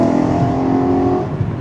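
A BMW E92 M3 engine revs hard and loud up close among trees, a rising, sustained growl that eases off after about a second.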